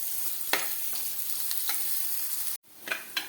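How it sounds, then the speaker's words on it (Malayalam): Onions and curry leaves sauté in a pan for a green mango curry, giving a steady close hiss with a few sharp spatters and stirring scrapes. The sound cuts out for a moment near the end, then returns. "ഇതിനകത്തോട്ട് ഒരു രണ്ട് കറിവേപ്പിലയും കൂടെ ഇട്ട് കൊടുക്കാം സവാളയും കൂടെ ചെറുതായിട്ടൊന്ന് വഴന്ന് വരുന്നത് വരെ നമുക്ക് വെയിറ്റ് ചെയ്യാം"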